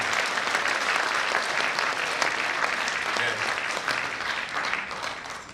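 An audience at a peace and reunification prayer meeting with a special lecture breaks into warm, dense applause that holds steady for several seconds and then starts to fade slightly.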